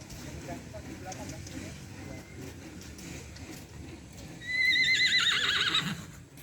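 Horse at a riding stable whinnying loudly near the end, a rising then wavering neigh, after a stretch of soft background noise and faint hoof and movement sounds.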